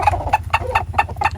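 Young pullets clucking as they eat black soldier fly larvae, a quick run of short, close clucks and chirps in a steady rhythm with a low background hum, no talking.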